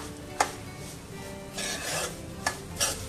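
A spoon scrapes and stirs rava (semolina) roasting in ghee in a pan over low heat, giving soft raspy rubbing strokes with a few sharp clicks against the pan, heard alone.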